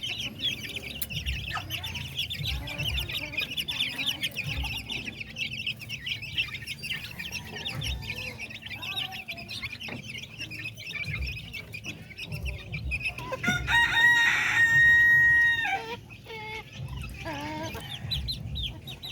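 Native chickens and chicks feeding on wet wheat feed, with steady clucking and peeping from the flock throughout and a louder burst of calls near the end.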